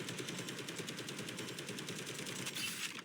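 The Punisher's automatic weapon in the Marvel Rivals video game fires a fast continuous stream of shots for about three seconds, a rapid even rattle heard at moderate distance.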